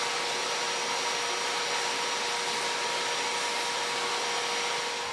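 A vacuum pot pump runs continuously, degassing a resin tool with a steady, loud hissing whoosh that holds evenly throughout and tapers slightly at the end.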